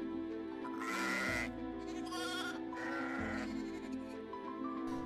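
Sheep bleat outdoors on scrubby garrigue hillside grazing land, giving several clear, fairly close bleats in a row with no talking.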